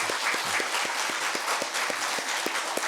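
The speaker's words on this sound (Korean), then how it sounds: "큰 박수로 한번 환영해 주시기 바랍니다" A church congregation claps in welcome during a Sunday worship service, with dense, even applause and sharp individual claps standing out throughout, fairly close and steady.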